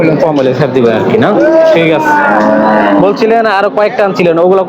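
Cattle at a busy livestock market in Bangladesh, with loud, close, drawn-out moos rising and falling repeatedly under and between people talking.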